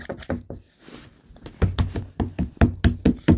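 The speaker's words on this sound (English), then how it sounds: "it's a hard knock at the door." Hard knocking on a door, a run of loud heavy thuds in uneven bursts that grow stronger and faster toward the end, close and alone with no talk.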